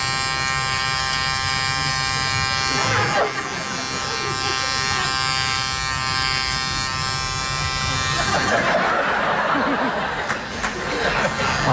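A man vocally imitates an electric shaver, buzzing steadily as a comic Mr. Bean shaving bit, with audience laughter and chuckles breaking in near the middle and toward the end.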